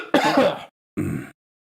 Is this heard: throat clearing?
yes